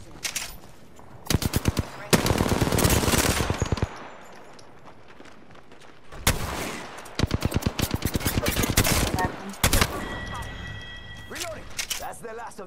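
Rapid automatic gunfire rattles in bursts during a session of the video game Apex Legends on PS4, loud volleys of shots with pauses between, while a player talks over the action.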